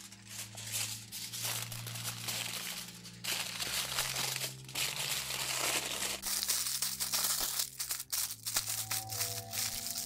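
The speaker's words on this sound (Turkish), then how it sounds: "folyo ile kaplayın" Aluminium foil is crinkled and pressed around a talisman wrapped in a piece of cotton fabric, giving dense, continuous crackling close by with brief pauses.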